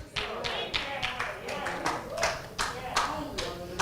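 A church congregation claps in a steady rhythmic beat, sharp hand claps about every third of a second with a faint voice underneath, close and moderately loud throughout.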